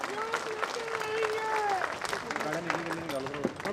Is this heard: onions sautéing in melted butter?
no